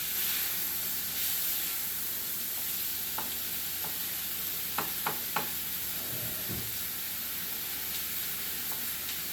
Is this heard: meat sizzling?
yes